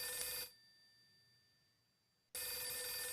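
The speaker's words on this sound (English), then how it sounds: "My phone's ringing." A telephone rings in the video game Last Window: The Secret of Cape West, two loud electronic ring bursts separated by a quiet gap of about two seconds.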